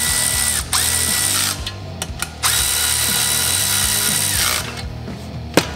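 Ratcheting clicks from a hand tool tightening down a valve spring compressor on an aluminum LS cylinder head, loud and close, repeating in quick bursts with short pauses between strokes and no talk.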